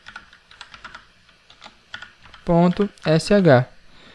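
Soft, quick keystrokes on a computer keyboard as a chmod command is entered in a Linux terminal, a scattered run of light clicks followed by a person speaking close by.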